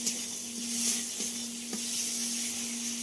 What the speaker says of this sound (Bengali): এবার এতে দিয়ে দেব গ্রেট করে রাখা আদা।